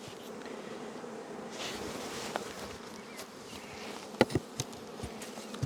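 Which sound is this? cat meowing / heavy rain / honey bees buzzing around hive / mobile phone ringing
honey bees buzzing around hive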